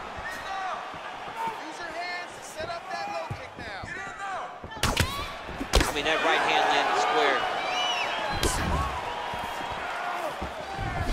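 Punches land in a UFC 4 fight game match, a run of sharp thuds and smacks, with a couple of heavy impacts partway through over constant crowd-like background and excited commentary throughout.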